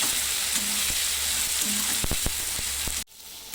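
Finely chopped tomato fries with golden-browned onions for paneer bhurji, a loud, continuous sizzle with a few clinks of stirring, cutting off abruptly near the end.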